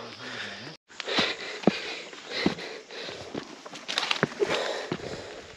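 Footsteps climb an uphill trail near Almora, Uttarakhand, while a water gallon is carried, giving irregular close crunching steps mixed with heavy breathing and sniffs.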